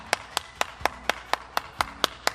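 Applause for the Super Kids at an online children's service: about ten sharp, evenly spaced claps in a steady rhythm, close and fairly loud, with no talk.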